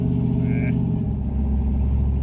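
A loud cammed 5.3 V8 in an S10 with a choppy, lopey idle rumbles steadily throughout, a deep uneven burble with a short higher whine partway through.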